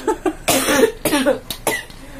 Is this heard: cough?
yes